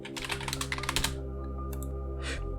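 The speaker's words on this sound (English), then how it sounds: "I can just type that in." Typing on a computer keyboard while coding a flag-guessing game: a quick run of close, crisp key clicks for about a second, then a pause and a couple of isolated key taps over a steady electronic hum.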